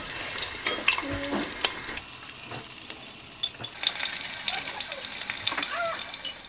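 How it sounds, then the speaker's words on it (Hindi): Potatoes frying in hot mustard oil in a kadai, a steady crackling sizzle with scattered utensil clinks and scraping throughout. "ऑयल गरम हो गया, उसमें ये पोटैटो थोड़ा फ्राई कर रहे हैं."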